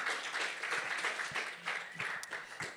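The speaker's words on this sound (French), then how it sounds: "on applaudit bien fort" An audience at a talk gives a short burst of applause, fairly faint and even clapping from a room full of people.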